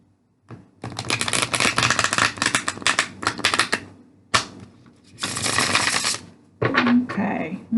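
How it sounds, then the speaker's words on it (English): A tarot deck shuffled by hand in several bursts of crisp, rapid riffling and clicking, loud and close, separated by short pauses, with a brief voice near the end. "Let's do one more shuffle."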